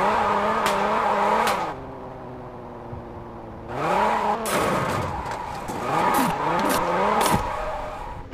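Car drifting in the mobile game Car Parking Multiplayer: engine revs rise and fall in repeated surges, with bursts of tire squeal and skidding through the loudest passages, no talk.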